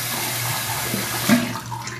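Tap water runs steadily and close by into a sink during a face wash, with a brief louder splash partway through and no talking.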